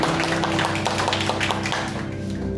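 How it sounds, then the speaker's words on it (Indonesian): A church congregation applauding together: a dense, steady patter of many hands clapping close by, gradually easing off toward the end. "Tepuk tangan."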